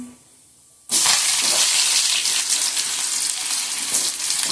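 After a brief quiet moment, a loud burst of sizzling erupts as chopped onions hit hot oil for adai dosa, then settles into a steady, crackling fry.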